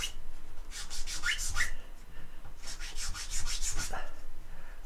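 Flat steel file rasping across wood in a kids' workshop, two bursts of steady back-and-forth strokes, close and fairly loud, with a brief pause between them and no talking.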